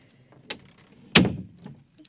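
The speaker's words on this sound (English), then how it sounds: "Close that door." Household door closing: a light knock or latch click, then a firm thudding shut with a short rumbling decay, in a quiet room.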